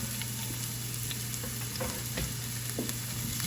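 Green peppers and garlic sautéing in a pan over low heat, a soft, even sizzle with faint crackles and occasional light stirring, steady and close.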